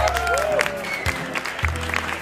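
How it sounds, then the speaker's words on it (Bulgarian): Audience applause at a business award ceremony honouring the 2014 Business Lady of the year, a burst of clapping filling the hall with a sustained musical tone running alongside. "Моля вашите искрени и силни аплодисменти"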